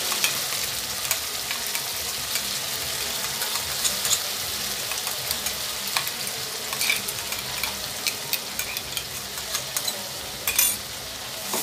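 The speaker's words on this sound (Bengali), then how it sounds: "এইটাকে আমি পুরো একদম ভাজা ভাজা করে নেব" Ground spice paste of onion, ginger, garlic, a little tomato and green chilli sizzles and fries steadily in a pan for chicken curry, with occasional stirring scrapes and clinks and no talking.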